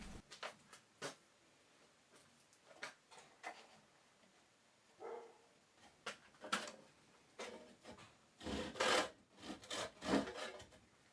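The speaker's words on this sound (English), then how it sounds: "Holding the workpiece in position, I cut the other mitre" A hand saw cuts a wooden mitre in a mitre box, giving short, quiet rasping strokes that start sparse and grow into a quicker, louder run of strokes near the end.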